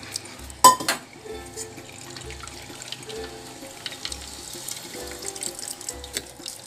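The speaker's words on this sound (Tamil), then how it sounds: "தண்ணி ஊற்றி நம்ம அலசி" Water from a kitchen tap runs quietly into a blender jar being rinsed after making beetroot juice, with a sharp clunk early on and faint splashing and sloshing throughout, no speech.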